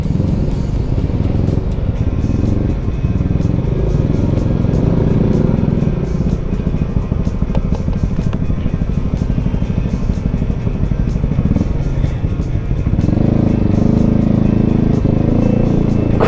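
Continuous engine drone from a bored-up 183 cc Yamaha Aerox scooter being ridden on a road, loud and steady with slight pitch shifts as speed changes, accompanied by wind and road noise.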